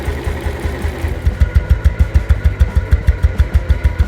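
A BMW R27 single-cylinder motorcycle engine idles up close, its steady, loud, even thumping pulses running without pause and growing more pronounced toward the end.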